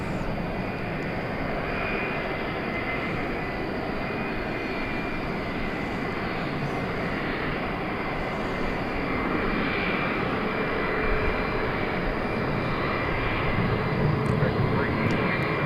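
A jet airliner at DFW airport at night gives a steady, loud engine roar that holds for the whole stretch and swells slightly toward the end.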